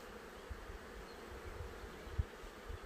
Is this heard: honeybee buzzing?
yes